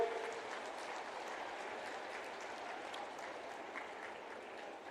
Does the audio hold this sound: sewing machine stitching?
no